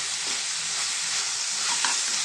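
Cumin seeds and garlic frying in a pan for a village-style egg, dried fish and tomato curry, giving a steady close sizzle with faint stirring scrapes, no talk.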